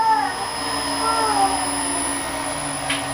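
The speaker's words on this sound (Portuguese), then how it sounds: "E aqui nós vamos desacelerar o motor." A three-phase electric motor fed from a single-phase supply slows down, its steady loud whine gliding downward in pitch over a few seconds, heard on its own.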